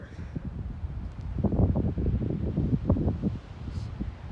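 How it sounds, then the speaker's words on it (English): Gusty wind during a storm, a steady broadband roar with rustling swells that rise and fall, heard alone without talk. "Pretty windy, guys."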